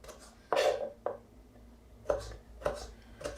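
A small paring knife chops through avocado on a board, a few separate soft knocks spaced irregularly, close and moderately loud with quiet pauses between.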